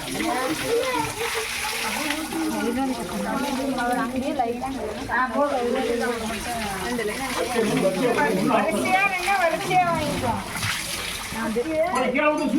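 Water splashing and sloshing as it is poured around during a Tamil temple festival for the Amman and Mariamman goddesses, a steady wet gush running the whole time under continuous crowd chatter and nearby voices.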